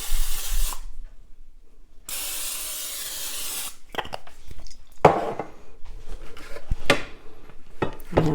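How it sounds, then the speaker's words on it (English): Two long hisses from a can of cooking spray coat a baking pan for chocolate chunk bars, followed by scraping and clattering of a utensil against the metal pan. "Spray or grease your pan."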